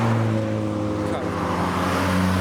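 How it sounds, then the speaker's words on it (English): A V8 car at a Japanese car meet in Reading drives past with a steady, loud low engine drone and strong harmonic hum, holding close and even throughout. "It was another V8."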